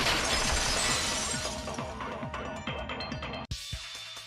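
A vase shatters in the Danganronpa video game: a loud, dense crash of breaking ceramic that decays over a few seconds into scattered tinkling shards, ending with a final small clink.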